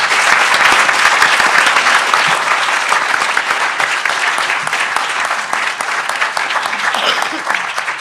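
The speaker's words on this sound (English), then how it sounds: "Let's give them all a big round of applause." A school board debate audience gives a long, steady round of applause for the candidates, a dense, loud wash of many hands clapping that holds evenly for around eight seconds.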